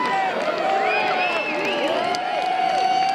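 Spectators at a BYU versus Central Washington rugby match keep up a steady din of overlapping shouts, calls and cheers throughout, with no single voice standing out.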